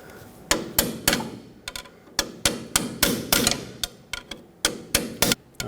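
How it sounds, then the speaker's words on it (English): Hammer striking a pry bar to chisel open a peened washer on the inner tie rod of a 1995–2004 Toyota Tacoma, a close series of about twenty sharp metallic blows in an irregular but steady rhythm. "Take a pry bar or whatever you have that will basically chisel this open and unlock it by prying the washer back out."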